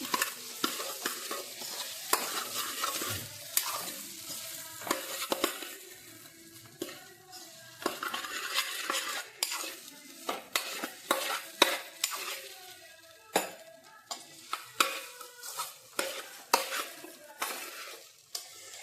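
Leftover idly pieces stirred and tossed in a hot pan on low flame, a sizzle under repeated sharp spatula scrapes and clacks against metal in an uneven rhythm, close and without talk.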